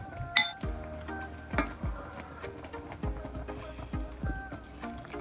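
A utensil repeatedly knocks and scrapes against a cooking pot as thick strawberry jam is stirred, producing irregular close clinks and scrapes over a low background.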